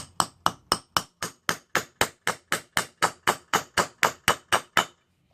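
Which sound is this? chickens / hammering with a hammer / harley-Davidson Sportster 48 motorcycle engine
hammering with a hammer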